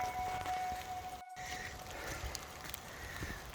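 Steady rain falling on a hiking trail with a little snow on the ground, a faint, continuous hiss of drops with scattered soft patters and a brief dropout partway through.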